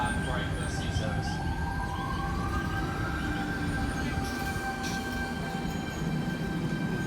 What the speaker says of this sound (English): Train now arriving on platform 3 is a Penrith Flat right first year service.